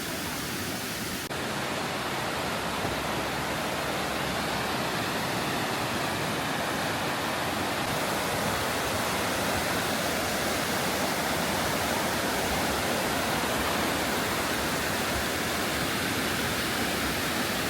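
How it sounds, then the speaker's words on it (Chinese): A small river flows out from a waterfall in Jiuzhaigou, a dense, continuous rushing of water that stays loud and even throughout with no voices. "这就是瀑布流出来的一条小河。"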